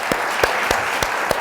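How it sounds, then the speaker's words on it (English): Audience in a faculty lecture setting applauding at the close of a conversation event, steady dense clapping throughout with a few louder individual claps standing out. "let's give Yves one last round of applause"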